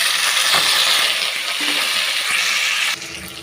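Onions and tomatoes sizzle as they sauté in a pan while cooking bottle gourd chutney, a steady close hiss with faint stirring clicks that drops in level near the end.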